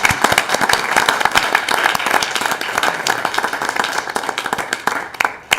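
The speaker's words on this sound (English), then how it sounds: "Let's give them a big round of applause." An audience at a Board of Education meeting breaks into dense, steady applause, many hands clapping at once and close by. It holds for several seconds before thinning toward the end.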